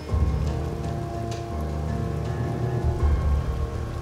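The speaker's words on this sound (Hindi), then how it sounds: "बारिश हो रही है," Steady, heavy rain pours down on a surface, a dense continuous patter with a low rumble underneath and no voices.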